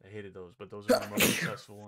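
A single loud, sharp sneeze bursts out close to the microphone just after a man finishes a sentence in casual conversation during a gaming stream.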